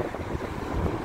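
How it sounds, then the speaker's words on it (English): Wind gusting across an outdoor microphone on Blackpool Promenade, a steady low buffeting rumble with uneven puffs, moderately loud and without voices. "A bit blowy, I'm sure you can hear that wind noise"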